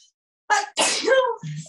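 A single loud, close sneeze, sharp and explosive, followed at once by a brief spoken reaction.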